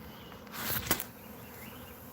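A brief burst of buzzing from a bee swarm swells and fades within a second, faint and close, against quiet background hiss.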